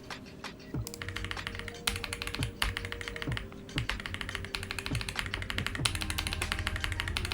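Steady typing on an Ajazz AK870 mechanical keyboard with a hot-swap display and knob module, a fast, continuous run of close, crisp key clicks with a few short pauses and no talking.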